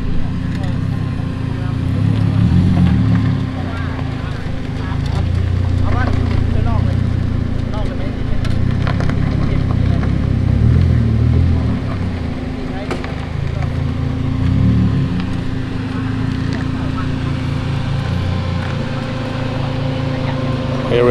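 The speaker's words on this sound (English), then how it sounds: "Here we have the two cars arrive when we start this vlog, so we can just make a quick flyby." Cars arrive and drive past at a car meet in Bangkok. Low engine rumble swells and fades several times as they pass nearby, under ongoing talk.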